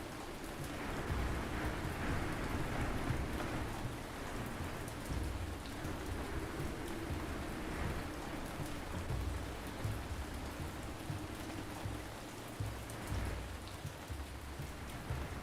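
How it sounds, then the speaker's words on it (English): Steady rain falls throughout in the video game Ancient Cities, an even hiss of heavy rainfall with a low rumbling undertone and no voices. "It's raining again though, it's crazy."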